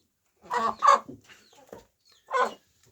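A few close chicken clucks in quick bursts, with a pause before one more cluck, against a quiet background.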